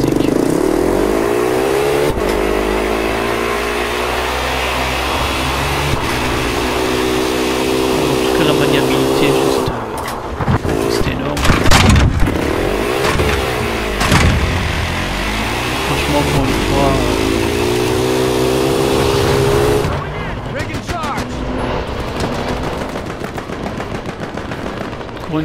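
A vehicle engine drones and revs steadily throughout a Battlefield Hardline chase, with shifting pitch as it accelerates, joined by bursts of gunfire and a busy, loud mix of game action.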